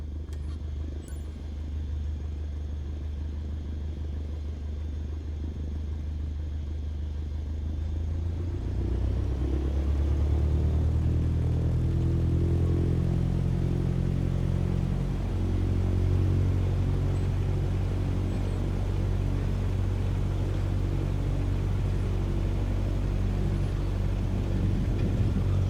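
Simulated airplane engine taxiing on a runway in Microsoft Flight Simulator, a steady low rumble that deepens and swells partway through as power rises, continuous and fairly loud with no talking.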